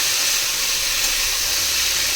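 Green chillies and potatoes frying in oil give a steady, loud hissing sizzle that holds evenly throughout with no talking.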